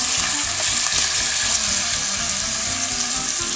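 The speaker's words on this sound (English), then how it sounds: "Here comes a nice sizzle." Loud, steady sizzling of peppers and shallots frying in a hot skillet, a continuous crackle with faint clinks of stirring and no talking.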